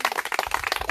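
Audience clapping at a book concert, brief and fairly quiet, a scatter of hand claps from a seated crowd with no talk.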